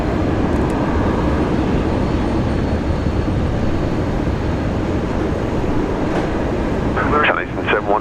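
An airplane landing at Brisbane International Airport produces a loud, continuous roar heard close by that stays steady and broad throughout, with a brief voice rising near the end.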